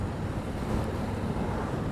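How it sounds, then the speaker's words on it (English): Steady, roaring wind buffets the rider on a moving motorcycle with the helmet visor down, filling the short moment with dense broadband rush. "It's a little windy."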